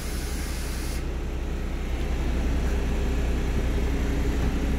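A Heuliez GX127 bus lowering its suspension back down: a steady, even air hiss fills the whole span, easing slightly in its upper edge after the first second.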